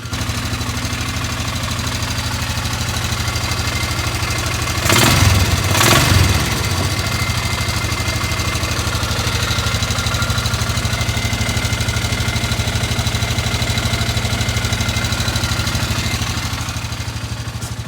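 A Polaris Ranger UTV engine idles steadily and close by for a long stretch, with a brief burst of louder revving or knocking near the start before returning to an even running note.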